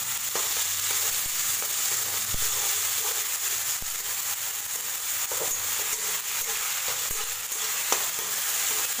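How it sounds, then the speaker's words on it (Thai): Tomato and onion stir-fried in a pan for an Indian gourd kofta curry: a continuous close sizzle with scraping spatula strokes throughout, no voices. "ผัดจนนิ่มนะคะ"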